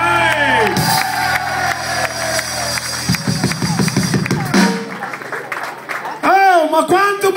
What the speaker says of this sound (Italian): fare un grosso applauso qua all'Epolito Giordani